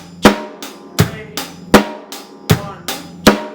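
A bucket drumming beat with deep bass hits, sharp snare-like cracks and an 8th-note hi-hat pattern. The hits come in a steady, close, loud pattern with no talking.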